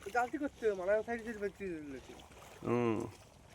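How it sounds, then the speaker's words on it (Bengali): A boat engine drones faintly and far off through fog on a Sundarbans river, a low steady rumble beneath nearby conversation. "বোটটা কই আওয়াজ পাওয়া যাচ্ছে কিন্তু বোট দেখতে পাচ্ছি না কুয়াশার জন্য"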